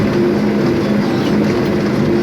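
Steady low engine drone of a tractor heard from inside the cab, loud and constant with a humming tone.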